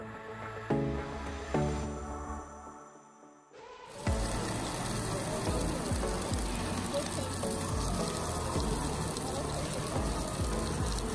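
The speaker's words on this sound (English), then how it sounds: "Oh, the cheese is bubbling." A pot of cheese fondue bubbles on the grill table at an all-you-can-eat Korean BBQ restaurant in Greater Los Angeles. A steady, close sizzling and bubbling grows louder after a few seconds and continues over muffled restaurant background.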